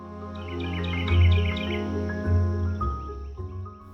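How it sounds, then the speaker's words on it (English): Garden birds chirp and sing in a small cottage garden, several overlapping tweets and short trills at moderate distance over a low steady hum, with no voices. "Our feathered friends sing and make their colorful appearances every day."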